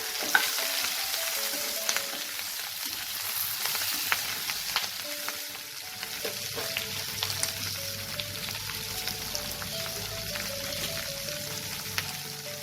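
Onion stalks and slit green chillies frying in oil for a tangra fish curry, giving a continuous crackling sizzle with occasional stirring clicks and scrapes throughout.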